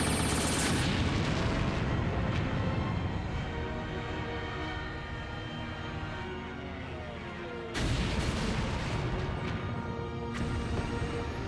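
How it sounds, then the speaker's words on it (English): Heavy, booming cannon blasts rumble on, loud and close, with a fresh thunderous burst partway through and another near the end. "Fire the cannons!"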